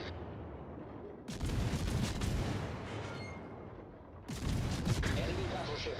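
Enemy warships fire heavy guns in a naval battle game, two deep booming salvos rolling out one after another over a low rumbling background, with faint voices mixed in.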